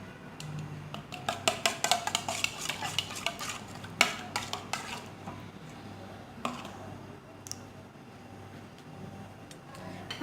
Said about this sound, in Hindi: अब इसको अच्छी तरह मिक्स कर लेंगे